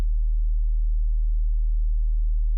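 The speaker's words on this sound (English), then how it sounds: "Find a bass that plays two notes" A deep, smooth sub-bass tone hums steadily and evenly, with no other sounds around it.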